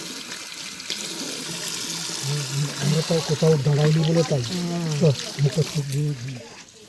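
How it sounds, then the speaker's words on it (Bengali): Water is poured for hand washing at a hillside eating spot where people sit under umbrellas, a steady running splash heard beneath continuous close talking. "হাত ধোয়ার জল"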